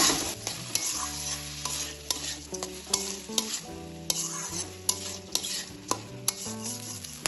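Soaked rice fries with spices in oil for a vegetarian vegetable rice, sizzling steadily while a spoon stirs and scrapes the pan in regular rhythmic strokes, close and fairly loud, with no voices.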